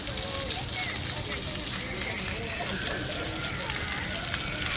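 Steady broadband rush and splash of an outdoor waterfall water feature outside the Hayward Gallery in London, continuous and fairly loud, with street ambience mixed in.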